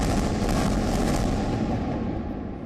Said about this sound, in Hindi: ये रॉकेट अटैक, ये बमबारी, ये धमाका